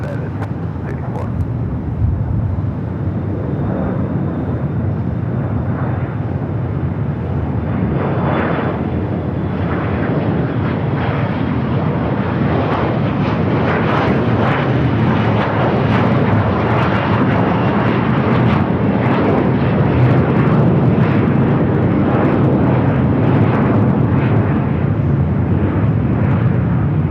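Boeing 777-300ER jet taxiing at Los Angeles International Airport, a loud continuous engine roar and whine that builds gradually, with a voice talking over it.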